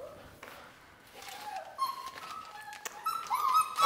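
Six-week-old Goldendoodle puppy whimpering in a series of thin, rising whines and yips that build in loudness toward the end, close by, with faint background noise and no clear speech.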